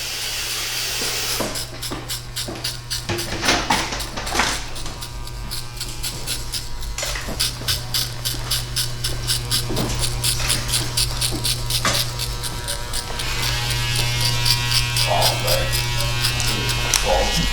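Electric hair clippers with a zero guard run in a steady buzz while cutting a skin fade, close and continuous, with brief snips and handling clicks over the hum and no talking.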